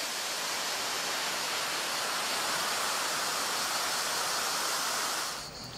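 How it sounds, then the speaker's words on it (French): Water cascades into a swimming pool beside a jacuzzi at a house in the south of France. It gives a constant broad roar that stays steady and then eases slightly at the very end, with no voices. "Avec l'eau qui tombe en cascade dans la piscine."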